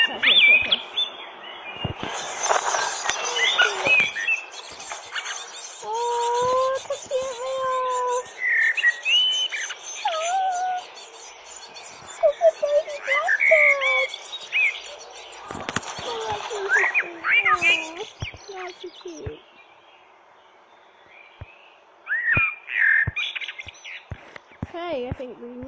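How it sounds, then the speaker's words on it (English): A blackbird sings in repeated, varied fluting phrases and chirps, clear but moderately distant, with short pauses between phrases and a few scattered clicks and knocks nearby. "That blackbird."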